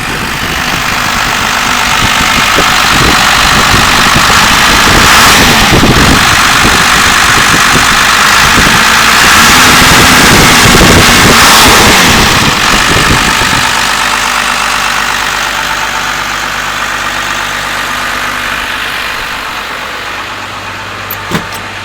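A 1992 Dodge Ram W350 engine idles steadily and loudly up close, a continuous rumble with a slight rise in roughness midway before settling to a smoother idle.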